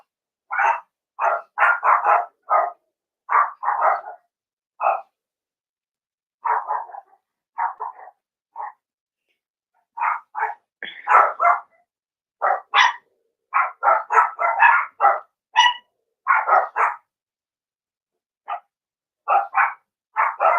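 A dog barks indoors in rapid clustered volleys, loud and close, pausing briefly between bursts for about twenty seconds.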